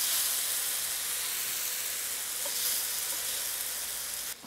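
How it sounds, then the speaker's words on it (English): Pork searing in a hot pan, with peach jam caramelizing on it, a steady bright sizzle and hiss that holds evenly and close throughout, then cuts off abruptly at the end. "The pork's getting an awesome sear."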